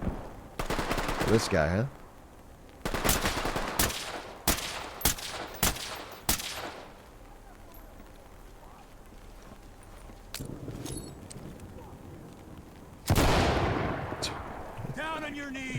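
Video game gunfire crackles in several rapid bursts and single shots, loud and close, with long quiet gaps between volleys and a final heavy burst near the end; someone talks briefly over it.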